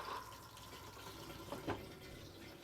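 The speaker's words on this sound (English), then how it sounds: "Once you've used the toilet, you'd flush." Water flushes into the cassette toilet of an Elddis Encore 285 caravan, a quiet, steady trickle and wash with a brief splashy gurgle near the end, heard close and faint without speech.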